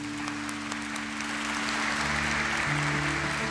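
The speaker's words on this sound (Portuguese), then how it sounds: "Aplaudamos a palavra do Senhor." A church congregation applauds at Mass, a sustained, fairly loud wash of clapping from many hands that keeps steady and swells a little toward the end, with no voices over it.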